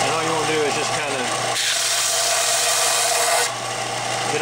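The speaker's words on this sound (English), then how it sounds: "I like to just use the belt sander" A belt sander roughs up and flattens the surface of a bottle cap, giving a loud, coarse, continuous grinding rasp that swells in the middle and eases near the end. A voice is faintly heard at the start.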